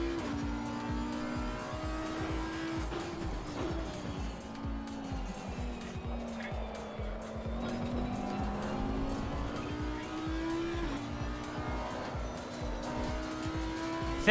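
A race car engine in Assetto Corsa revs hard under heavy throttle, its pitch climbing and falling through gear changes, with faint tire squeal and other cars audible around it. The sound runs continuously at a steady level.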